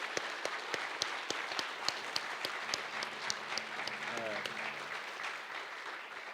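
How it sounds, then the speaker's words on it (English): At a sister cities signing ceremony between a city and a Native American nation, the audience applauds with a steady patter of claps and a few sharp individual hand claps, while a voice briefly speaks partway through. "And now you can clap."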